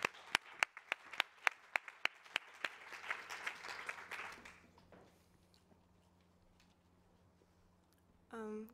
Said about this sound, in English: So please give her a big round of applause as well.